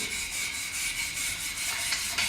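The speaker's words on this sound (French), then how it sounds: "Je vais brosser pour enlever vraiment les impuretés." A wire brush scrubs a chamfered metal workpiece to clean it before arc welding. The rasping strokes are close, steady and rhythmic, without a voice.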